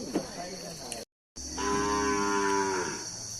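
At a Thai livestock market, a native Thai cow and her calf call out with a brief low moo, then after a short gap a long, loud, drawn-out moo, close by.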